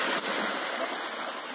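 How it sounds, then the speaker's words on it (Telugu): Drainage water from a bathroom outlet flowing steadily in a continuous close, loud rushing gurgle with no talk over it. "drainage water"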